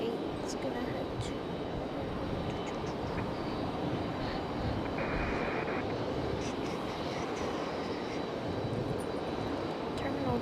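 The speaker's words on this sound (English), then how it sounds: "8320 Neo landing." A Frontier Airbus A320neo lands at Raleigh-Durham airport after a flight from Houston, heard as a steady, unbroken engine roar through the whole stretch, with a voice faintly underneath.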